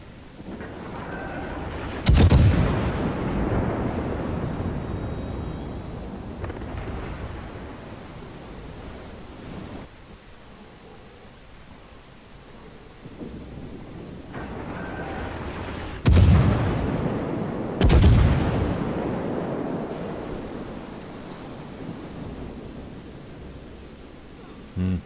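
Heavy guns of the Admiral Hipper cruiser firing in World of Warships, with three loud booming salvos spaced apart over a continuous rumbling background of sea and battle ambience, no talking.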